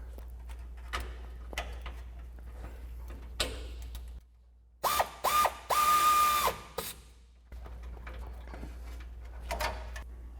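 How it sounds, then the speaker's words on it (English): A ratchet fitted with a 12mm socket tightens a factory bolt while a ReadyLIFT 3-inch suspension lift kit goes onto a 2022-2024 Toyota Tundra, giving rapid bursts of loud, close clicking with brief pauses between strokes. "then we're going to take a 12mm socket to tighten down our factory bolt"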